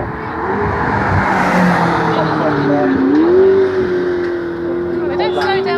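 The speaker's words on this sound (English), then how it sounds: "The supercars coming thick and fast." Supercars at a motoring festival in Bournemouth roar past one after another, a loud engine note rising and sweeping by up close, with voices talking over the passing traffic.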